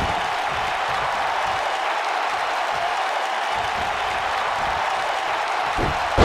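Capacity arena crowd at a WWE 2K19 wrestling match cheering and applauding in a steady, dense roar that holds through the whole stretch, with no voices standing out.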